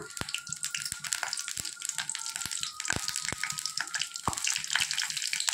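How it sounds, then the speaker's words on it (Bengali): Whole cumin seeds crackle and sizzle in hot oil in a wok, a dense, steady frying hiss peppered with sharp popping ticks, close and continuous. "তেল দিয়ে এই যে আমি একটু প্রথমে গোটা জিরে ফোড়ন দিলাম"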